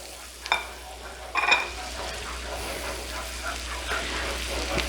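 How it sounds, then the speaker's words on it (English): A whole head of garlic drops into melted butter with a couple of sharp clattering stirs, then settles into a steady, close, continuous sizzle. "All right, so our butter's all melted, so we're going to put our entire head of garlic"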